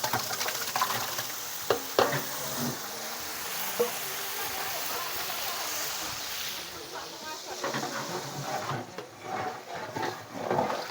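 Mushroom biryani masala with ginger paste and yogurt stirred in a huge pot outdoors, with a steady sizzle and the scraping churn of a large paddle, under someone talking.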